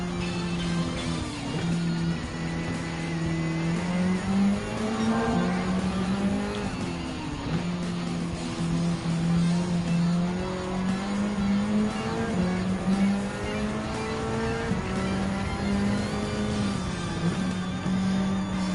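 Race car engines in the video game Gran Turismo 7, including a Mazda 3 Group 4 car, drone steadily. Pitch climbs and drops through gear changes and revs across the whole stretch, with commentary talk underneath.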